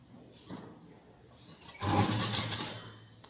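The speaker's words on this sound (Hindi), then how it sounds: "अब इसको इस तरह से पकड़ेंगे और सिलाई लगाएंगे।" A sewing machine stitches a blouse collar, a faint start-up followed by a loud, close, steady whirring run of about a second and a half before it stops.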